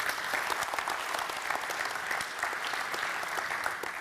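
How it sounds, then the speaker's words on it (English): An audience claps through a round of applause at a Google Atmosphere Maps business keynote in Sydney, a dense even patter of many hands that stays strong from start to finish. "just a huge round of applause for Louis"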